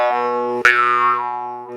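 A Mohan bass morchang jaw harp plays one sustained, deep droning tone rich in overtones, with a single sharp twang attack partway through and the drone continuing before fading slightly.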